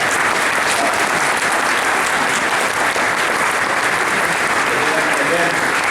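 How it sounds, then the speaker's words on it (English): Dense, loud applause from a school audience honoring their principal, a continuous crowd of clapping hands that holds steady for the full stretch, with voices faintly mixed in. "just a round of applause for our principal here"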